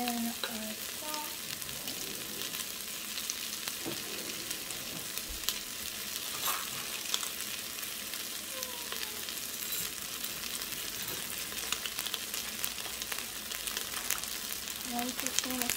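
Potatoes fry in butter in a pot, giving a steady, soft sizzle with occasional stirring scrapes, close but fairly quiet.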